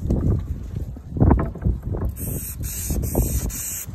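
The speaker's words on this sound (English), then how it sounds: "It's kind of windy out here" Steady gusty wind blows outdoors across the microphone while someone works on a C50 motorcycle air filter, rumbling in uneven surges with no talking.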